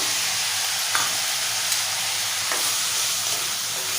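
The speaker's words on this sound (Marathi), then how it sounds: "बटाट्याच्या फोडी घालूया" Potato pieces going into a pan of frying capsicum for a Marathi-style vegetable dish, a loud, steady hiss of sizzling oil with a few faint stirring knocks.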